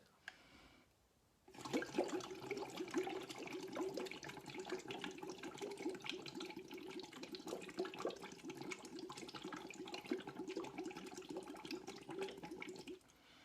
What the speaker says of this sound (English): another simple exercise is using our straw and a glass of water is to blow bubbles into that glass of water